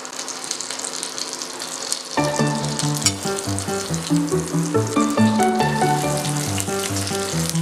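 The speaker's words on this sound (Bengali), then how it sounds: "এবার আমরা ফোড়নের জন্য দেখানো মশলাগুলো ঢেলে দিলাম কড়াতে।" Whole spices tipped into hot oil in a kadai for egg rezala, bursting into a loud, crackling sizzle after a quiet moment, then frying steadily with popping, close and alone.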